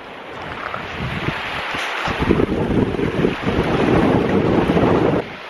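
Strong headwind on a European bike tour buffets the microphone in loud, rushing gusts that swell and ease, with a broad roaring hiss and no voices.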